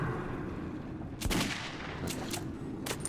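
Gunfire in the video game Metro 2033: a few sharp, loud shots ring out against a steady low background, one heavier burst near the middle and a couple of lighter cracks toward the end.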